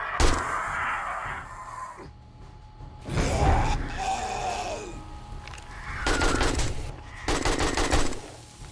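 Rapid automatic gunfire in the video game 7 Days To Die rattles out in three loud bursts separated by short pauses, with faint grunting between volleys.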